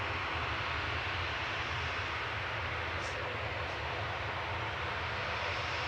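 Swift Air ATR 72 turboprop from Guernsey coming in to land at Manchester, a steady, loud propeller and engine drone with broadband hiss and no break.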